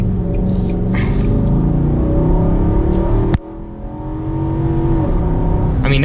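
A 2017 Nissan Armada Platinum with a 5.6-liter V8 and seven-speed automatic accelerates on the highway, its engine drone loud and close from inside the cabin, rising in pitch before a brief thump and a steady cruise.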